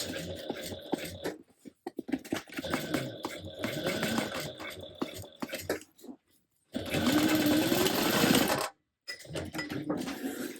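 A sewing machine stitches a tote bag in bursts of rapid whirring, stopping and restarting several times, close and fairly loud.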